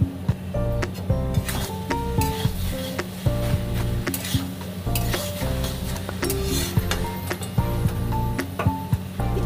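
A vegetarian vegetable dish stirred in a pot, with steady repeated scraping and clinking of a utensil against metal over a continuous sizzle, close and fairly loud, without talk.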